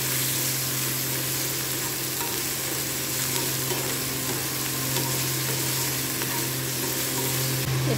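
Ingredients for sabudana pulao fry in a pan, a steady continuous sizzle holding at close range, with faint stirring scrapes and no talk.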